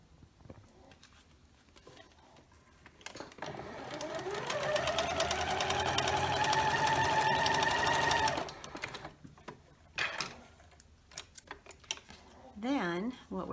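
A sewing machine runs steadily for several seconds, stitching quilt triangles together with a quarter-inch seam for a seasonal zinnia wall quilt. A close, even mechanical whir rises and then stops, with brief handling noises and some talk before and after.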